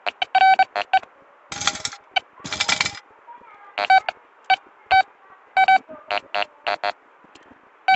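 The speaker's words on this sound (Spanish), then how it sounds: "Ya me suena el tono muy ferroso" A handheld metal detector sweeping in a forest gives a ferrous signal, a series of sharp, close electronic beep tones in short irregular bursts, some longer buzzy tones among them.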